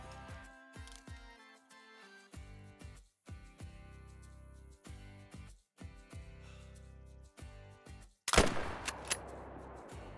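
A single sharp, loud crack from the new .257 rifle in theHunter: Call of the Wild breaks in near the end and echoes away, following a stretch of quiet, soft tonal game music.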